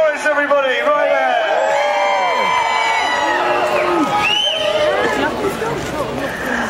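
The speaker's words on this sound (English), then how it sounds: "Give a cheer for Mark Norris, everybody, right there" A fan-zone crowd at a street event featuring a McLaren F1 car in Manchester cheers and whoops for a guest, loud and close, with shouts and excited voices rising and falling over a continuous roar of chatter.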